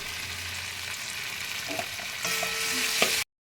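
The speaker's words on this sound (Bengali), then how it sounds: "মশলাটা আমি একটু ভালো করে কষিয়ে নেব। আমি একটু কাশ্মীরি রেড চিলি পাউডার দিয়ে দিলাম।" Masala spices with Kashmiri red chili powder fry in a pan for a paneer malai curry, a steady close sizzle with light stirring scrapes, growing louder near the end before cutting off abruptly.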